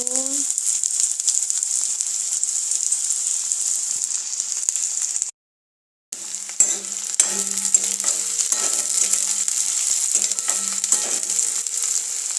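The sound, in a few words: onions frying in oil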